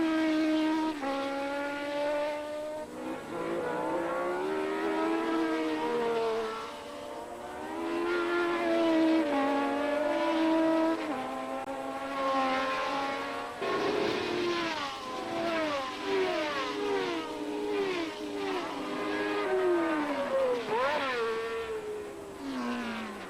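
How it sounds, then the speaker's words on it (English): Formula One race cars from the 1977 season scream past, loud engine notes climbing and falling in pitch almost without pause. "Here we see Tambay's car on the sidelines."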